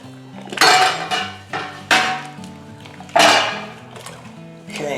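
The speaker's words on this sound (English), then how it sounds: "So with my beer paddle I'm going to give it a good stir." A beer paddle stirring grain mash in a brewing pot, giving several loud knocks and scrapes against the pot's metal side with ringing resonance between strokes.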